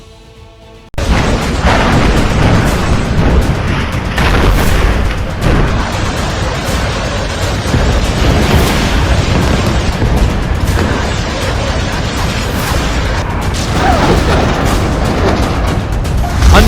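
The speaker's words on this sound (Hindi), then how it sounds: "धमाके पर धमाके हो रहे हैं।" Missile and bomb blasts in a war zone between Israel and Gaza follow one another almost without pause, a loud, dense rumble of booms and bursts that begins abruptly and continues throughout with no talk.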